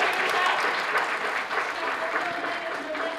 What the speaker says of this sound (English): Please give them a round of applause to Chiba Institute of Technology.